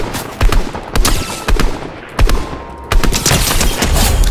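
Loud, close automatic weapon fire in Fortnite, with sharp bursts repeating at roughly half-second intervals and then a sustained stretch of shooting at the end.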